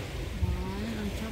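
Big ocean waves at the beach in Ras Tanura make a steady, broad wash of surf under wind noise, constant and fairly close through the short moment.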